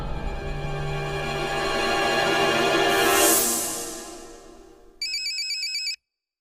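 A phone ringtone plays loudly in a short melodic loop, then switches to an electronic trill before cutting off into silence.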